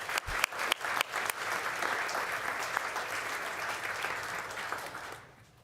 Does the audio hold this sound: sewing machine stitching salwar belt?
no